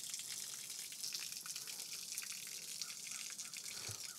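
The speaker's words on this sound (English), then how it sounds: "You can see it's clearly flowing." Water streams from an opened fire hydrant at modest pressure, a steady hissing, splashing flow heard alone without voices.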